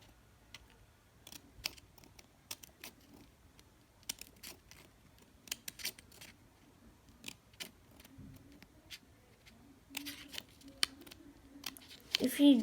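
Scissors snipping lines into paper card for a handmade birthday hat card, a series of short crisp cuts spaced irregularly, close and fairly quiet, with a louder rustle at the end.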